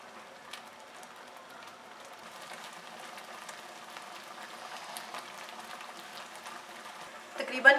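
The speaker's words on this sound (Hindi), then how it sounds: "इसको मीडियम आंच पे तकरीबन 15 से 20 मिनट पकाएंगे" Mulberry jam simmers on medium heat in a pot, a faint, steady bubbling and soft crackle that gradually grows a little louder, ending with a brief clatter.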